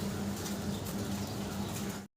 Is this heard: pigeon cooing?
yes